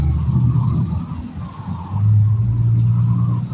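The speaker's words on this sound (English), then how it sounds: "Some loud cars have their fun." Loud cars rumble past outdoors, a deep throaty engine drone that swells and fades, with a heavier pass building in the second half and no talk over it.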